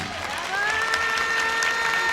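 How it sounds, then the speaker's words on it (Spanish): A live audience at a VidaFest panel event in Puebla breaks into applause to welcome a speaker, a dense steady wash of clapping that swells after a brief moment and holds, with some cheering mixed in. "lo recibimos con un fuerte aplauso"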